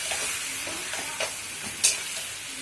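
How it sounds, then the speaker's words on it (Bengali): Chicken stirred and fried in a wok over a high flame, a soft continuous sizzle broken by a few scraping stir strokes and one sharper clatter near the end, with no talking. "মাংসটাকে হাই ফ্লেমে শুধু নাড়তে থাকবো"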